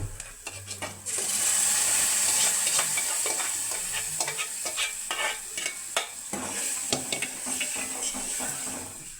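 A spoon stirs boiled split moong dal into a sizzling pan for poha khara pongal, scraping and clinking repeatedly as hot oil hisses steadily beneath.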